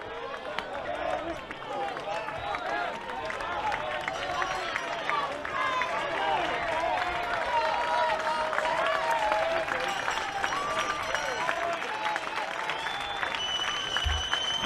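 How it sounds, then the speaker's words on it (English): Baseball crowd at a summer-league playoff game cheering and applauding during a full-count pitch, a steady wash of clapping and voices, with a play-by-play announcer talking over it. "Crowd heating up."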